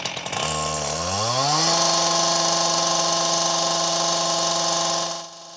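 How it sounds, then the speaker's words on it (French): A chainsaw starts up near and loud, its engine revving and climbing in pitch before holding a steady high whine for several seconds, then dropping off abruptly at the end. "La tronçonneuse, ça fait du bruit et ça fait mal aux oreilles"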